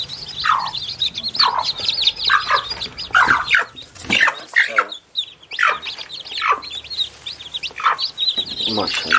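Clucking and chirping from a hen sitting on hatching chicks, busy and close, with sharp bursts of wing flapping and ruffling feathers; soft chick peeps mix in throughout.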